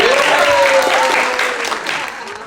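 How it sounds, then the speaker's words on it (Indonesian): Applause from an audience at an event hosted by a master of ceremony, a dense steady wash of clapping that swells and then gradually thins and fades. "Tepuk tangan dong buat dia."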